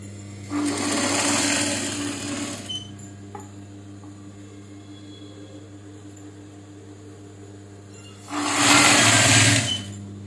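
Sewing machine stitching a kerchief, running in two bursts of fast, even whirring with a quiet pause between them while a low mains hum continues throughout.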